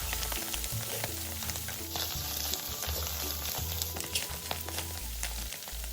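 Soaked dried shrimp, shredded shiitake and golden shallot slices being stir-fried over medium-low heat in a pan for a cabbage dumpling filling: a soft steady sizzle with intermittent scraping and tossing of a spatula, close and quiet.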